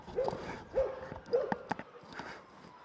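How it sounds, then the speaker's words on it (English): A dog barks off in the distance, three spaced barks followed by a few fainter yips, heard indoors through a microphone that is being tested. "I've got a dog barking over there."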